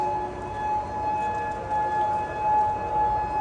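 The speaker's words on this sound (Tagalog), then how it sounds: "Siren niya na may bumbang paparating." An air raid siren sounds outside a residential building, warning of an incoming bomb. It makes a loud, steady, sustained wail that carries over a dull background rumble.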